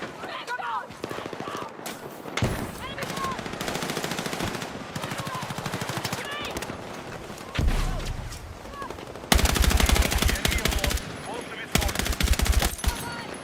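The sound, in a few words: gunfire emptying a full magazine in a video game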